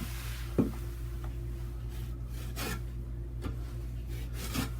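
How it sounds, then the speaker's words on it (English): A knife spreading plaster over mesh tape on a wall hole makes soft scraping rubs in separate strokes, with a few sharper taps, close by over a steady low background hum. "We'll try to squeeze a little bit of the plaster through the mesh"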